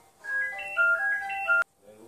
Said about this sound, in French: c'est le téléphone fixe